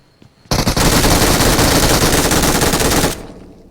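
Sustained burst of automatic gunfire in a multiplayer shooter video game, loud and dense rapid shots running for about two and a half seconds before cutting off abruptly, with no talk over it.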